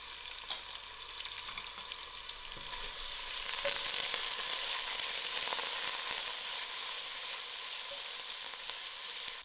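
Thyme, curry leaf and ginger garlic fry in a hot braise for gram dhal and tripe, a dense steady sizzle that swells louder partway through and then holds, close and continuous with no talking.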